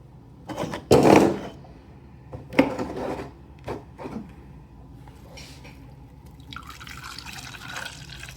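Juice from a Ninja blender is poured out in a few short bursts of trickling and splashing liquid, fairly close and quiet, with faint handling knocks between pours.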